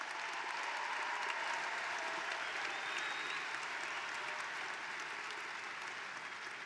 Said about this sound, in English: if everyone can give another round of applause for all these graduates